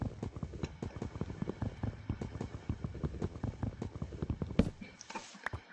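Horse hooves in Minecraft 1.16.1 clip-clop in a fast, steady galloping rhythm, soft but continuous throughout, with no voices over them.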